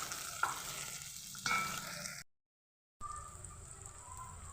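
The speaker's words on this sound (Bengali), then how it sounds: "এই তেলের মধ্যেই দিয়ে দেবো পেঁয়াজ কুচি পেঁয়াজগুলো দিয়ে ভালো করে একটু নাড়াচাড়া করে নেবো" Chopped onions with panch phoron frying in hot oil as they are stirred, a steady close sizzle with a few sharper scraping bursts, then a short silent gap before the frying resumes with a bright hiss.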